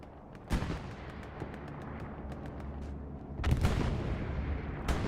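MG42 machine gun fire in the Hell Let Loose video game: rapid, fairly distant bursts with a steady rumble, punctuated by a few heavier, louder reports.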